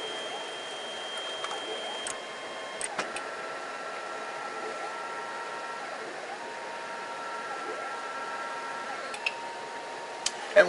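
A Monoprice Maker Select 3D printer drives back to its home position, its stepper motors whining in rising and falling tones with a few soft clicks, fairly quiet and steady throughout.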